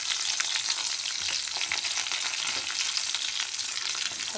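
Onions fry in a pan for curd curry, giving a continuous close, crackling sizzle with stirring scrapes and no voices.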